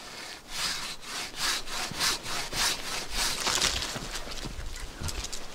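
A hand saw rasps through an apple tree branch during winter pruning in steady back-and-forth strokes, close and fairly quiet, with no talking.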